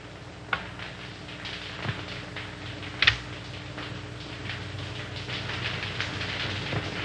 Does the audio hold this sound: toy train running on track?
yes